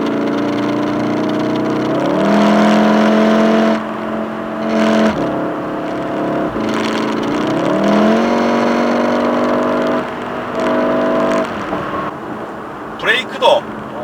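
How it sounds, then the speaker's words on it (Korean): A Volkswagen Golf R hot hatchback with 4Motion all-wheel drive revs hard through several rising gear pulls, loud and close, with brief shifts between surges and a faint squeal near the end. "대단한 가속이죠."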